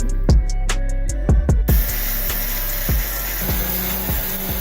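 An angle grinder works metal on a fabricated vehicle bumper: a steady, loud broadband grinding roar that runs continuously, broken by repeated sharp clanks and knocks as the tool bites and shifts against the steel.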